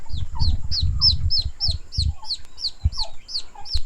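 Chickens clucking and chirping up close in a steady run of short calls, with low rumbling handling noise underneath.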